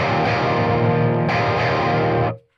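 An electric guitar played through a BIAS Amp 2 tube amp simulation rings out with heavy distortion at fairly low gain, a thick sustained chord that is cut off abruptly near the end.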